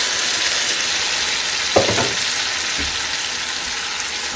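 Tomatoes are poured into a hot pan with zucchini for zucchini caviar, setting off a loud, constant close sizzle with a brief splash and stir partway through.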